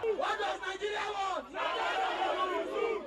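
A crowd of protesters chants solidarity songs at the gates of Nigeria's National Assembly, many voices rising and falling together in loud, close, rhythmic chanting.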